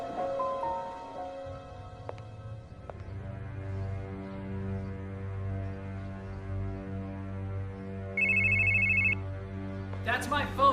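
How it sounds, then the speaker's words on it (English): A telephone bell rings once in a short electronic burst near the end, over a quiet sustained musical drone, with a sharp clatter after it. "That's my phone. Can you get it?"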